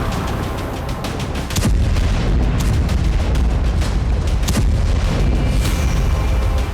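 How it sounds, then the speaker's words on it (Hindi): A blast at a weapons and aircraft-engine plant in Donetsk struck by Russia, heard as heavy rumbling booms, one sharp impact followed by sustained loud roaring noise and further thuds, with no talk. "डोनेत्स्क में रूस ने एयरक्राफ्ट इंजन और यूक्रेनी सेना के लिए हथियार बनाने वाले प्लांट पर विस्फोट"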